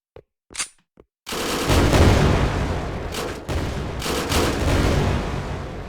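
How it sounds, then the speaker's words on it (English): Rocket weapon firing in the indie game Project Speedkills: a few short separate blasts, then a loud, sustained roaring barrage of rapid launches and explosions that runs on with brief dips. "Oh, it would now shoot rockets."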